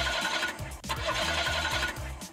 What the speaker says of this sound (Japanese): あれ、エンジンかからない。